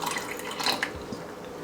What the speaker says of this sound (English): all we do is pour this salty brine right over all the cucumbers